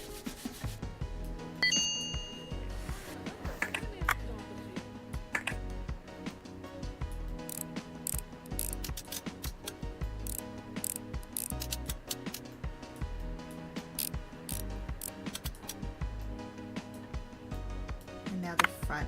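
Screws are taken out of the back panel of an electronic device, producing a steady run of small close clicks, ratcheting ticks and scraping that continues throughout.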